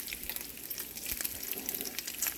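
Bacon frying in a pan, a steady soft hiss of sizzling fat sprinkled with small quick pops and crackles, fairly quiet and continuous with no talking.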